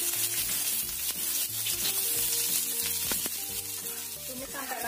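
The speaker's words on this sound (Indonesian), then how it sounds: "Kita tumis dulu bumbunya. Bawang merah, bawang putih," Shallot, garlic, ginger and onion sautéing in about three tablespoons of hot oil give a close, steady sizzle with a few scraping stirs, and no one speaks.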